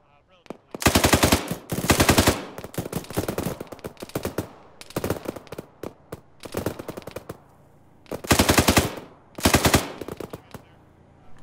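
Machine gun fire in a military video game, with several long sustained bursts of rapid automatic shots, loud and close, separated by short pauses and shorter bursts between them.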